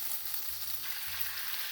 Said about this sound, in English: Now keep frying the chicken till you see the chicken turns white.